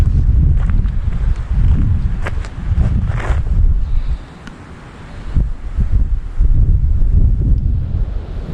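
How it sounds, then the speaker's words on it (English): Wind buffeting the microphone at Forestville State Park in southern Minnesota, loud rumbling gusts that ease briefly midway before rising again, with no talking. "Other than the wind, it's very quiet."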